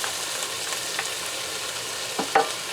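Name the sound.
stirring beef with thyme and salt in a pan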